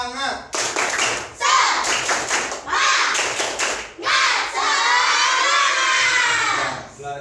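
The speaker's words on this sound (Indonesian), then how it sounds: "Ya, sekali lagi tepuk semangat." A group of children in an Islamic religious education class claps a rhythmic cheering chant, bursts of loud clapping alternating with sung or shouted phrases in close succession.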